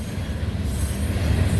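Freight train rolling past at close range on a mild Thursday, its wheels rumbling low and steady with a continuous rattling roar that builds slightly, no talking.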